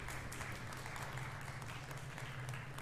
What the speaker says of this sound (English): So that clapping was the alert for it.